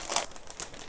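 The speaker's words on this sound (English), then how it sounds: "now let's open the keyboard bag" A plastic bag holding a Blitzwolf BW-KB1 RGB keyboard crinkles in two or three brief, soft rustling bursts at close range.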